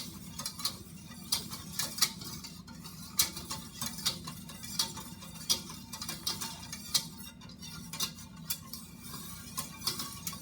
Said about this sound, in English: Whisk these together.